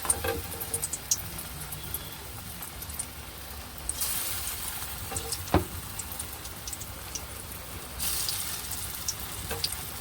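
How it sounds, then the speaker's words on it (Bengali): Greens fritters frying in hot oil in a wok, a soft crackling and spattering sizzle with scattered pops and surges of hiss, fairly quiet and steady. "কড়াতে তেলটা আগে থেকে বসিয়ে দিয়েছিলাম, তেতে গেছে। এবারে অল্প অল্প করে এভাবে নিয়ে দিয়ে দেবো তেলের ওপরে।"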